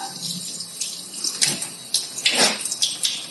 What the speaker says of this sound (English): Rinse the soap off with water